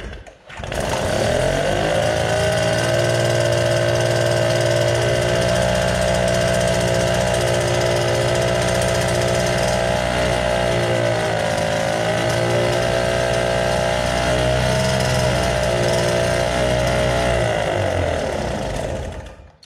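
A Solex moped engine runs steadily at a fast, buzzy idle, loud and close, a continuous raspy two-stroke drone that dips briefly in pitch midway before recovering, with no talking.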